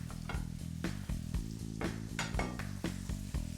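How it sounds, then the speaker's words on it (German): Golden trout fillets, flesh side down, fry in foamed butter in a pan, giving a steady close sizzle. Sharper clinks and scrapes of stirring or utensils come and go on top of it, and no one speaks. "Schön in der aufgeschäumten Butter. Kurz braten."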